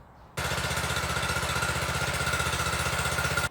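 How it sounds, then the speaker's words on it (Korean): A SEIMA WM400A mini garden cultivator engine that has been repaired, starting and then running, a loud, steady, rapidly pulsing small-engine putter close by, continuous after the start with no voices over it. "제가 고쳐본다고 고쳤는데 드디어 시동 거는 데는 성공을 했습니다"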